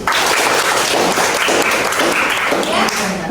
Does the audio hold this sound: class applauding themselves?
yes